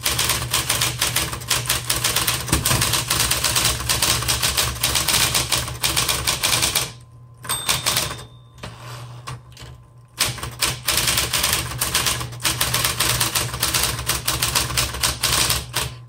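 A 1960s Smith Corona Electra 120 electric typewriter being typed on, rapid loud keystrikes over a constant motor hum, with a pause of a few seconds partway through before steady typing resumes.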